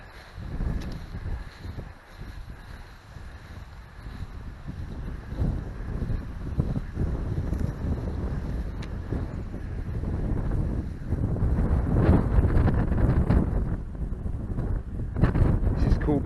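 Water rushing over Merion's Weir on the River Adur, a steady broad roar outdoors with gusting wind buffeting the microphone, growing slightly louder toward the end.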